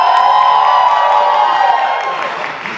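A youth theater audience cheers and shouts loudly in a dense, continuous roar of voices that holds steady and then eases slightly toward the end.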